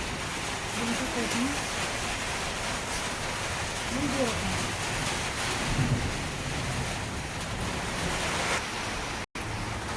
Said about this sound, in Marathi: खूपच जोरात पाऊस आला